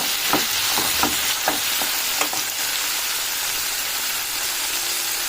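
Mint chutney with tamarind is stirred in a hot pan, giving a steady sizzle with several scraping strokes of the spoon early on before settling into continuous frying hiss.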